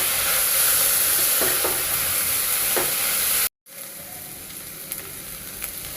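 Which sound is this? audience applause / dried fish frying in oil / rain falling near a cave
dried fish frying in oil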